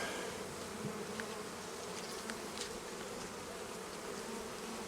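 A dense, steady buzz of many honey bees at a hive fills the air, with individual bees droning past up close over the constant hum.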